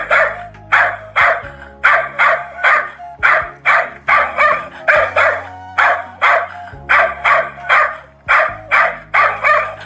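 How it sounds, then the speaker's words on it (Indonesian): A dog barks repeatedly at a cave hole, a steady run of about fifteen loud, close barks in quick rhythm with low background hum. "anjingnya berlari dan menggonggong ke arah lubang goa"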